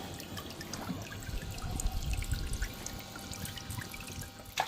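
Water squirts and splashes from a battery-powered toy bath fountain, a continuous close trickling spray that swells slightly in the middle and carries no speech.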